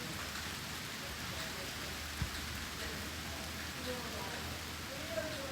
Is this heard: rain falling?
yes